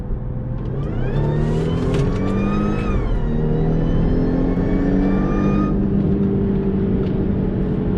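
An Audi A6 stage 2 with a dual pulley accelerates hard in dynamic mode, its engine revving loudly and climbing in pitch through gear changes, heard from inside the car as a steady, powerful roar.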